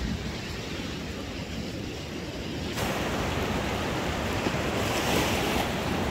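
Ocean waves on Patar Beach in Bolinao, Pangasinan, a continuous hissing surf wash that swells louder midway as a wave breaks, with wind noise on the microphone and no talk.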